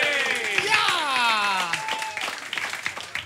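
A costumed variety-show audience applauds itself, dense clapping and cheering under a loud, excited voice talking over it throughout.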